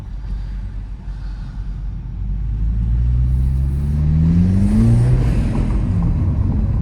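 A Toyota GR Supra 2.0 fitted with an aFe Takeda intake revs up in a garage. The loud engine rumble climbs and falls in pitch through a couple of sustained pulls, heard up close from inside the car.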